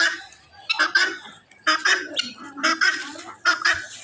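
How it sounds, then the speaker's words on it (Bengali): Guinea fowl in a home garden, among turkeys and chickens, give loud repeated harsh rhythmic calls in bursts close by, with short pauses between phrases. "তিতি মুরগি আছে, পাশে আছে তিতি মুরগি"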